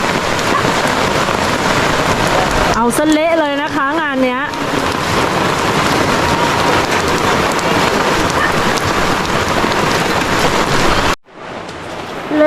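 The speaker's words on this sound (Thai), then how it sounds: "ฝนตกค่ะ แล้วก็ตกหนักด้วย" Heavy rain pours down at a campsite in a steady, dense hiss, with someone briefly talking over the downpour.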